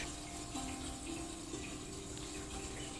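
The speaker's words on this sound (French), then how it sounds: "Une rivière peu profonde." A shallow, narrow river, roughly two metres wide and winding through a meadow, flows with a soft, continuous trickle and light gurgling, faint and steady in the background.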